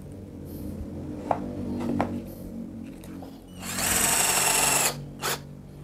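A Mollar 12-volt cordless drill running at speed setting 2 on a woodworking job gives a loud, steady mechanical whir that lasts about a second, close by, with softer tool knocks and clicks just before it.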